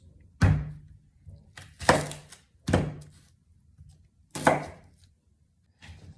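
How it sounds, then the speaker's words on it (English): A knife chops onions on a cutting board for chili, with four heavy, distinct thunks at uneven intervals and a softer one at the end, close and crisp, with quiet gaps between strikes and no talk. "Chop, chop, chop. And now the onions."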